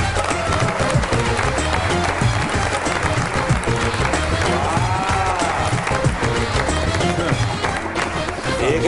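A studio audience at a Pakistani comedy talk show claps and cheers, with steady, loud, continuous applause throughout and voices mixed in under it.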